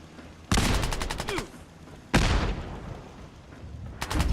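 Gauss rifle fire in Fallout 4 with Sim Settlements 2 during a fight with respawned gunners: two loud, sharp discharges about a second and a half apart, each with a long rumbling decay, then a third shot beginning at the end.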